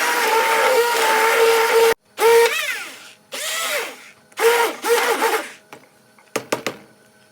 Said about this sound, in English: Now I will mix it together and then use a hand blender to blend the mush.